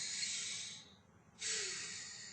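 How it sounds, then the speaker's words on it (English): A patient breathes deeply in and out during a medical chest examination, two soft airy rushes separated by a brief quiet pause, faint and close with no talking. "could you take a deep breath in and out for me?"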